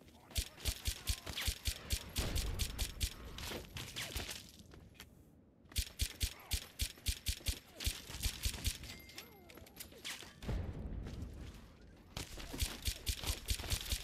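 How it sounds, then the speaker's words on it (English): Minigun fire in Fallout 3 comes in rapid, rattling bursts, three separate volleys of fast repeated shots with rougher noisy stretches between them, heard loud under a voice talking. "I hear a minigun."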